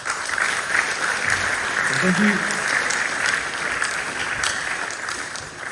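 A school assembly crowd gives a round of applause, steady clapping throughout the clip with a voice speaking briefly over it.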